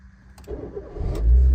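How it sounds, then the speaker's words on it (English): A 2006 Suzuki SX4 1.6 GL petrol car is started, with a few faint clicks and a short cranking whir before the engine catches and settles into a loud, low, steady idle close by, with no talking. "I'm going to start the car up for you quickly so you can see the startup sequence"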